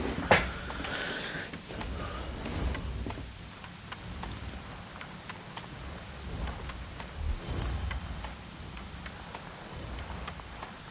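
Acid rain falls in the Fortnite video game, a steady hiss of rain with scattered drops and a low rumble like distant thunder, continuous and moderately loud with no talking.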